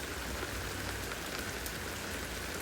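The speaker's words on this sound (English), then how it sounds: "It's now been raining like this for about 12 hours." Steady, dense rainfall at a mountain campsite near Crested Butte, Colorado, an even wash of drops pattering on surfaces close by, with no voices.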